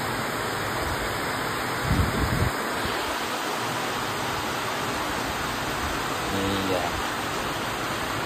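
Steady rain falls in a dense, even wash of hiss, with faint voices and a few brief bumps partway through.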